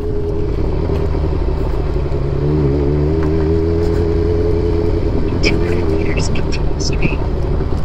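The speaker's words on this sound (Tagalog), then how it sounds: "Tignan ko nga ang tibay na itong motor na to." Honda CB400 motorcycle engine running steadily while riding, with pitch shifts as it revs and a speaking voice over the engine.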